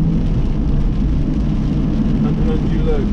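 Rain drums steadily on a car windscreen while driving on a cold wet road, a dense continuous hiss over low road and engine rumble throughout.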